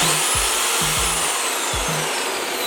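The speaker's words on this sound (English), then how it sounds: "This drill is way bigger." A large drill runs in the workshop with a constant loud, broadband whine, and low thuds and knocks mark its work on a dune buggy turbo install.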